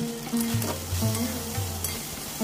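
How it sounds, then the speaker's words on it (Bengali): Figs and potatoes fry in a pan with ginger paste, salt and turmeric for a Bengali curry, giving a steady close sizzle with scraping stirs throughout, and no talking. "এবার আবারও একটু ভেজে নেব।"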